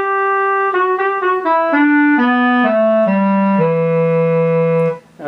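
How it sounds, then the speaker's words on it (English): Clarinet voice from a YRG Gen2 LE keyboard playing a descending monophonic melody of sustained, reedy notes, clear and close, ending on a long held low tone that cuts off. "35 is the clarinet"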